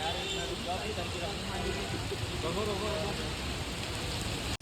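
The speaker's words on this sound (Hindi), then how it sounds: "ओ भाई धुआंधार बारिश हो रही है इस टाइम" Heavy rain pours down outdoors in a steady, dense hiss that fills the whole stretch at a constant level, with a faint engine-like rumble underneath.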